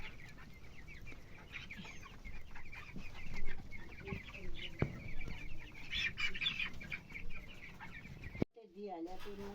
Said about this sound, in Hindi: यहाँ मुर्गियाँ चारा खा रही हैं